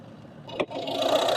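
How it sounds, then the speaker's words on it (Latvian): A Volvo V50 Summum's engine starts up and settles into a steady running drone, with a brief louder burst near the start, heard close and without talk. "Pārādīšu jums motora darbību."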